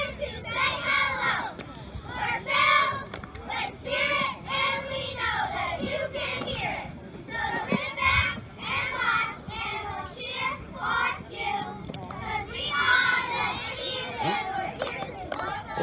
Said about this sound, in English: the Auburn Indians, cheerleaders, do their halftime cheer